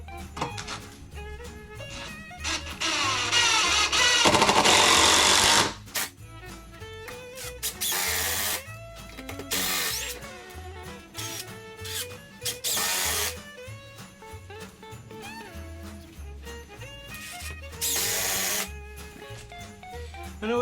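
A power drill drives screws into a wooden table in several short bursts, each whine rising then stopping, with quieter handling noises and clicks between them, close up and without talk.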